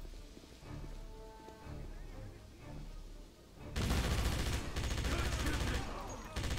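Dense, continuous automatic gunfire from a recoil-free weapon in the Wolfenstein video game, loud and close, following a stretch of game music and ambience.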